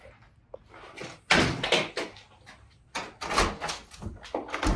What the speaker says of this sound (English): Let's see if this other door is locked.